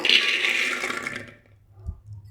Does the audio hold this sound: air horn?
no